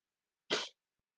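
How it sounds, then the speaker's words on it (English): One short, sharp sneeze from someone with allergies bursts out close to the mic in otherwise near silence, lasting about a quarter of a second. "Sorry, I'm sneezing so much."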